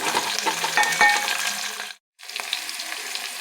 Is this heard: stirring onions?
yes